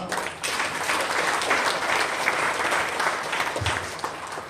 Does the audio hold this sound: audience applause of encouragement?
yes